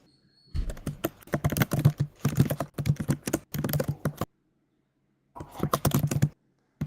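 Loud, rapid typing on a computer keyboard, close and clattery, coming in several dense bursts separated by short silent pauses.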